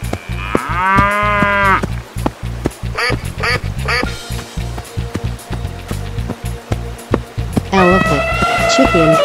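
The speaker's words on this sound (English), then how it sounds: "Cow." A cartoon cow gives several drawn-out moos, loud and close, mixed with other animal calls such as quacks over a steady, bouncy music track.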